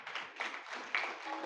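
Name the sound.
audience clapping hands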